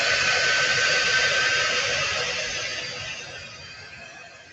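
A hair dryer blows with a steady, hissing roar up close, holding strong before gradually fading and quieting toward the end.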